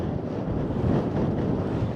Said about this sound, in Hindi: और हवा भी बहुत तेज चल रहा है।